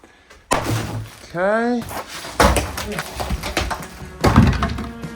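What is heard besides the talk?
wooden door being taken off its hinges, thudding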